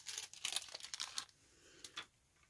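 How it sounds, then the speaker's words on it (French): Wrapping on a homemade advent calendar gift is unwrapped close up, with a quick burst of crinkling and tearing paper that slows to a few softer rustles, quiet and alone. "Alors, hop, je vais déballer"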